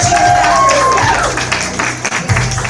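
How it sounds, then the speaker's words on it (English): Clapping from attendees at a business unit meeting, a close, fairly loud burst of hand claps with some crowd noise and stray voices, fading slightly after the first second. "let's give our queen a round of applause"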